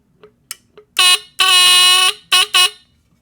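A Japanese-made smoke alarm gives several piercing electronic beeps: a few faint chirps, then a short loud blast, a longer sustained shriek and two more quick loud bursts, close and harsh.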